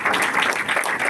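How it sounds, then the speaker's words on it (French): Audience at the mayor of Épinay-sur-Seine's thank-you reception applauding, a dense steady wash of many hands clapping at close-to-mid distance for about a second, with no voices over it. "je crois qu'on peut vous applaudir"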